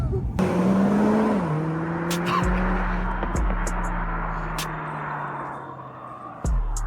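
A 500 bhp Mercedes CLA45S accelerates hard at night: a loud, rising engine note climbs through the gears with sharp shift breaks and pops, heard from inside the car.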